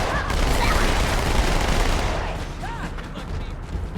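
Dense, continuous automatic fire from two SMGs dual-wielded in a Halo 2 Anniversary multiplayer-style firefight, loud and steady for the first two seconds before thinning into sporadic shots among other game effects.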